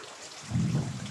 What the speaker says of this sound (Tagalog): makusugon po duman ang ulan sa norte